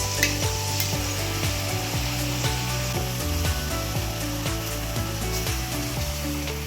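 Tomato, onion and ginger masala for chicken sizzles and fries in a pan, a constant crackling hiss broken by repeated scraping knocks of a stirring spoon.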